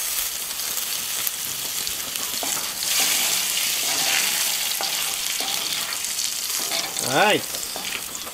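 Potatoes and garlic fry in butter in a pan, giving a steady, dense sizzle that keeps up throughout, with brief stirring scrapes and a short louder burst near the end. One word is spoken briefly.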